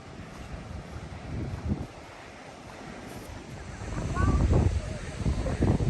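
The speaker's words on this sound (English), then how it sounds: "it's gonna be really windy." Strong coastal wind buffeting the microphone at an Acadia National Park beach, rumbling gusts that swell and build louder toward the end, with a voice briefly audible beneath.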